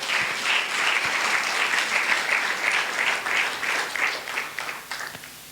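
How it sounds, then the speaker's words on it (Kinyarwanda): Steady, dense applause from a church congregation during a sermon, loud and sustained throughout before tapering slightly at the end, with no speech over it. "Amashyi menshi ku Mwami Yesu Kristo"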